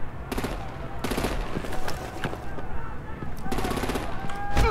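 Rapid bursts of automatic gunfire rattle out in several separate volleys, loud and close, in Batman: The Enemy Within, a Telltale Series game, with other battle noise filling the gaps between bursts.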